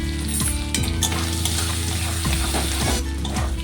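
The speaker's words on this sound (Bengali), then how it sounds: "পেঁয়াজ আর চিংড়ি মাছটা একটু ভাজা হয়ে আসছে" Onion and prawns frying together in a pan for a bitter gourd and prawn curry, a steady close sizzle with occasional stirring clinks, no voices.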